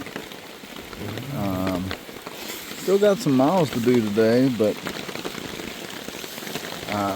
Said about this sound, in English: didn't really feel like hiking in the rain, to tell you the truth. So I just figured I'd put my tarp up